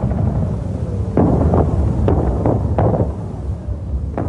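High-explosive artillery shells strike a target on open ground in archival First World War film, heavy low rumbling booms and several sharp bursts rolling over a constant muffled, noisy soundtrack.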